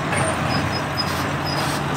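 A city bus passes in street traffic, a broad steady road roar with engine rumble and brief high squeals, fairly loud with no voices.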